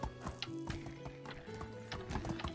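Horse hooves while riding in Medieval Dynasty: a steady, rapid clip-clop of hoofbeats, close and fairly even in rhythm, with faint game ambience underneath and no talking.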